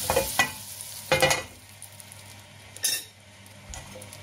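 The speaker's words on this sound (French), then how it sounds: "Mettez le beurre au fond de la poêle, bien chauffé" A pinch of butter goes into a well-heated frying pan for crêpes, with a few sharp scraping and clinking strokes over a soft, steady sizzle and no voices.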